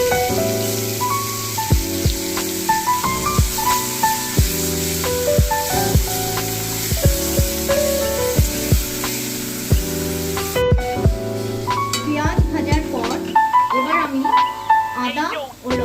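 Onion paste sizzles steadily as it fries in oil spiced with whole garam masala, a continuous hissing spray heard close up beneath tonal background sound, with a brief pause and a slight change in texture near the end.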